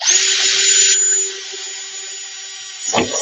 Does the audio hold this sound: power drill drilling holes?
yes